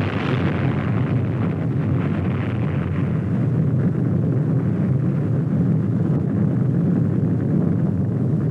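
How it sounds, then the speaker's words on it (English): Atomic bomb burst from the 1946 Test Baker underwater detonation, a continuous loud deep roar and rumble that holds steady for the whole stretch, with no distinct separate blasts. "The first phase of the bomb burst produces the effect of an exploding derby hat"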